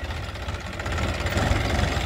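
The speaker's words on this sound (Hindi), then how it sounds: "मैसी सदाबहार ट्रैक्टर।" A Massey Ferguson tractor engine runs steadily nearby while pulling a load of sugarcane toward the mill, a loud, continuous low diesel rumble with a rhythmic knocking beat that swells slightly as it goes.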